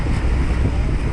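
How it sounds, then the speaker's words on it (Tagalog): Strong wind roars across a microphone on a small boat at sea, with heavy waves surging in a steady, loud wash. "Laki ng alon. Lakas ng hangin."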